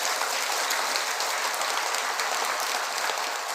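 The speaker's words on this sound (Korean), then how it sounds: "여러분 박수 한번 크게 쳐주세요" Audience applauding two Buddhist monks at a large dharma lecture gathering, a steady dense wash of clapping filling the space for several seconds without a break.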